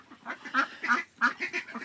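Several nasal Indian Runner duck quacks come in quick, irregular bursts, close by and moderately loud, with short pauses between calls.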